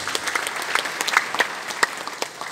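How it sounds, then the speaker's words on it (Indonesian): A church congregation at an ecumenical service in Jayapura claps in scattered, uneven bursts, moderately close and fading near the end. "Kita berikan tepuk tangan buat Tuhan Yesus."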